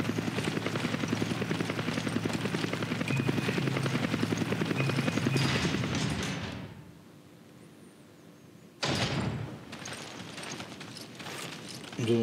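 A helicopter in the Resident Evil 5 video game, a loud steady rotor thrum and engine roar that fades out to near silence before game sounds burst back in.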